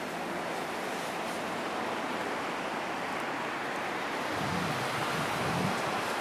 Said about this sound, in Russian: Короче, зацените, какое тут море ночное.